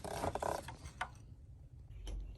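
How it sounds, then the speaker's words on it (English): Ratcheting wrench with a 13mm socket working a spark plug bracket bolt on a 2011-2023 Dodge Charger / Chrysler 300 3.6L V6: quick close clicking bursts early on, one sharp click near the middle, then faint rubbing and a low hum. "we're using a ratcheting wrench with a 13mm"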